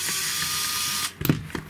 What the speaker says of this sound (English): we are going to take out the other screws